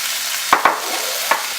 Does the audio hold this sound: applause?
no